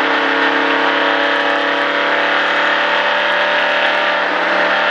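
A stock car accelerating on an oval during a Richard Petty NASCAR driving experience, a loud, sustained engine roar heard from the cabin, steady and droning without letting up.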